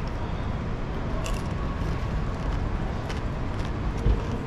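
Biting into an Osaka street-food strawberry skewer coated in crunchy candy glaze: a few faint crisp crunches against constant, busy background noise.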